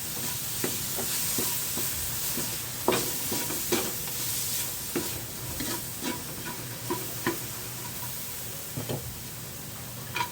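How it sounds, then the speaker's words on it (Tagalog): Onion, garlic and tomato sauté in a pan for a chicken and bitter-gourd dish, a constant close sizzle broken by irregular clicks and scrapes of a spoon stirring against the metal. "para igisa naman natin yung ating sibuyas at bawang, kamatis"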